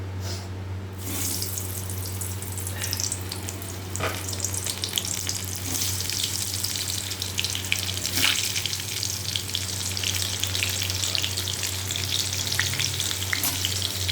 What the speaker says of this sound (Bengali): পটলগুলোকে একটু ভালো করে ভেজে নিতে হবে